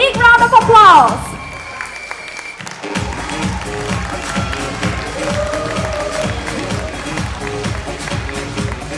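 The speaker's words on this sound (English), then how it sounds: "Let's give them a big round of applause." An audience at a swimsuit round of a beauty pageant claps and cheers steadily after an opening burst of voice and music, the applause a dense, even patter that stays loud throughout.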